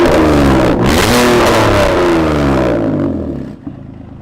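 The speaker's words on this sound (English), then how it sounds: "this is a concept car that sounds like that!" A concept car engine revs hard with a deep, growling roar that rises and falls in pitch. It is very loud and close, then cuts off sharply to a quieter idle near the end.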